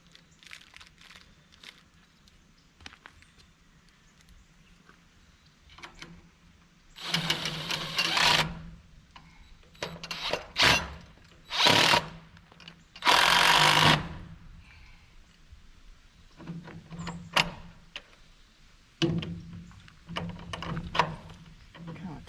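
A power drill drives screws into a dog gate at a homestead back door, giving several loud whirring bursts of a few seconds each with pauses between them, close by, with a person talking quietly in the gaps.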